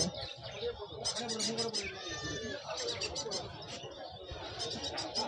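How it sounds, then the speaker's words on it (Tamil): Lovebirds about 45 days old chirp in a busy chorus of high, rapid tweets and calls, with a few coo-like notes mixed in, continuous and fairly close throughout, while people talk faintly in the background. "Love birds."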